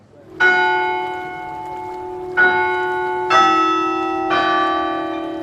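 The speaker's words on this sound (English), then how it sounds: "church bells chime a familiar tune" Church bells in the Devon fishing town of Brixham chime a hymn tune, four loud, ringing strikes with long overlapping decays.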